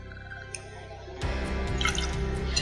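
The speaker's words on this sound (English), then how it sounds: "Then you're gonna go in with 1 ounce of our Holladay soft red wheat bottle and bond" Holladay soft red wheat bottled-in-bond bourbon poured into a cocktail glass, a steady close trickle of liquid that starts partway through and runs on to the end.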